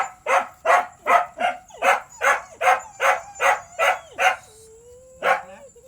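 A dog near a mother dog that has just given birth barks in a steady series of about eleven sharp, close barks, followed by a whine and then one more bark.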